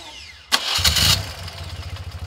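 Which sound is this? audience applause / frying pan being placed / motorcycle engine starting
motorcycle engine starting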